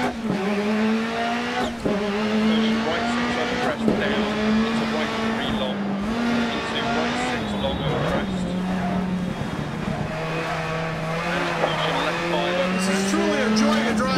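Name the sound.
rally car driving in video game Dirt Rally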